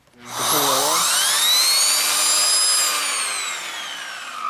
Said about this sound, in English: this is a rotating spinning nozzle, and that will go ahead and clean the stairs a lot better, as well as your upholstery.